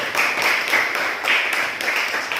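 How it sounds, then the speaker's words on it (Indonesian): Classroom applause for a student group, a short burst of clapping from a room of students, rhythmic and fairly loud, pulsing in quick uneven waves for a couple of seconds. "tepuk tangan untuk kelompok 1"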